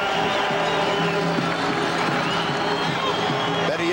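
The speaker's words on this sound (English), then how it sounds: "And the crowd here at McMahon Stadium is on its feet." A football crowd roars at McMahon Stadium during the 1991 CFL West Semi-Final between the BC Lions and the Calgary Stampeders. A dense, steady wash of cheering sits beneath a commentator's voice.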